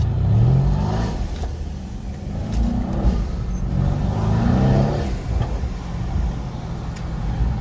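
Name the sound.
car accelerating, spinning rear tire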